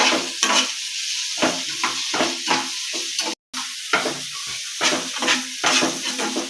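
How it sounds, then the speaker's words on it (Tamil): Onion, curry leaves and green chili sauté in a pan for a prawn gravy, a close, continuous sizzle punctuated by rhythmic scraping stir strokes, with a brief dropout in the middle and no talking. "நன்றாக வதக்கென்று போட்டு கிண்டவும்"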